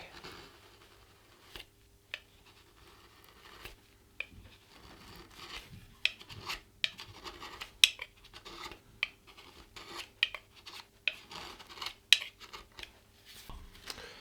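Blade cutting away heated material on an Epiphone SG guitar during restoration: sharp scraping ticks and short rasps, close and irregular, growing busier over a quiet background.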